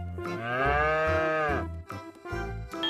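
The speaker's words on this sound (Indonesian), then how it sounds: "Wah, ini sapi tanduk warna orange." An orange-horned cow lows in one long, drawn-out moo, followed by shorter, deeper grunting calls, close and clear with no talking over it.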